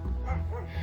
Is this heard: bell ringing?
no